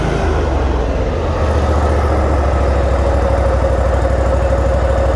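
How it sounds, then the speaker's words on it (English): A 2014 Toro Z Master 6000 commercial zero-turn riding mower with a 60-inch deck idles close by, its engine settling into a steady, even low rumble that holds alone throughout. "I'll idle it back down for you"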